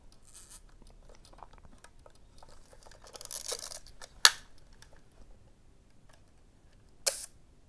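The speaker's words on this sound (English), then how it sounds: "So the shutter stays open, and then it closes as you take your finger off the button" A camera shutter on its B (bulb) setting fires with a sharp click as it opens, followed by quiet handling, then a second crisp click about three seconds later as it closes, close and clear with no talk.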